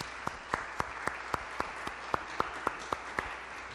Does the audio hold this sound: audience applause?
yes